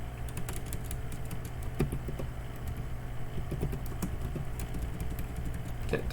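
Steady computer keyboard typing runs throughout, scattered keystrokes over a constant low engine-like hum, with no speech.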